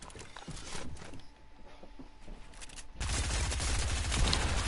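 SMG fire in an online shooter, with a few scattered shots early on and then a dense, loud stream of rapid automatic fire close by during the last couple of seconds.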